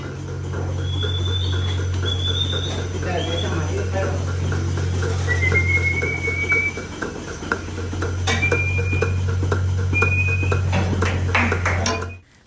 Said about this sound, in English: There's quite a bit of whistling that goes on, and that's telling the girls to keep moving